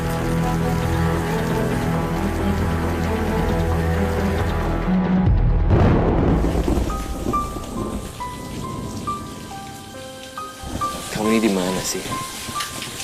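Steady rain pours down in a dense, continuous hiss, with a deep rumble of thunder partway through and voices speaking over the downpour.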